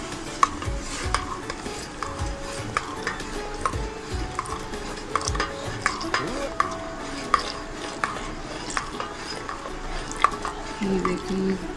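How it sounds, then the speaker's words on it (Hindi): A metal spoon stirs cornflour-thickened milk with sugar in a pot on the stove for a dessert, giving steady scraping and clinking against the pot over a low cooking hiss, with a voice talking now and then. "साथ साथ चम्मच चलाएंगे।"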